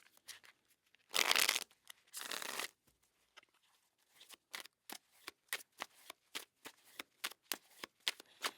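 A tarot card deck is riffle-shuffled in two long, crisp bursts, followed by a quick, even series of sharp card snaps and taps as the deck is cut and handled up close, with no talking.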